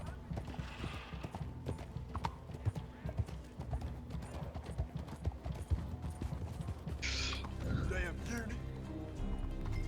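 Horse hooves clip-clopping in the video game Red Dead Online, a steady rhythmic trot heard through continuous game noise with players talking over it and a brief whinny near the end.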